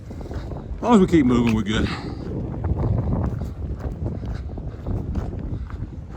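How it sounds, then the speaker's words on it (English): Cold wind blows across a high mountain ridge on the Appalachian Trail, a steady rushing roar buffeting the microphone throughout while someone talks over it. "the higher we get, the wind starts blowing, it gets colder"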